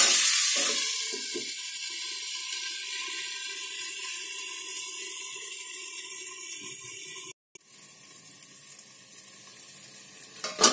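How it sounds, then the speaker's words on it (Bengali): Potatoes for a vegetarian alur dum sizzle steadily in oil in a pan, a bright close hiss that dies down abruptly partway through and leaves quieter residual sizzling, with a brief clatter at the end. "এবার আমি খানিকক্ষণ কষে নেবো এরকম করে।"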